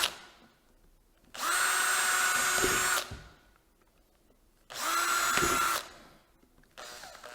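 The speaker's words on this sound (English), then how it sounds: "I'm going to drill some holes." A power drill bores holes into a plastic Tropicana juice jar in two loud bursts of about one and a half seconds each, with quiet gaps between and a third burst starting at the end.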